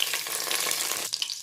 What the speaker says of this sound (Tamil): இப்போது இது நல்லா காஞ்சதும் கொஞ்சமாக கருவேப்பிலை போட்டுக்கலாம்.